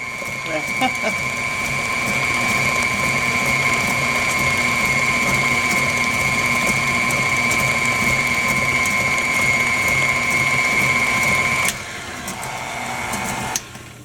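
An electric stand mixer whirs loudly and steadily, beating 7 Up pound cake batter with a constant motor whine and grinding rattle, then drops to a lower speed near the end.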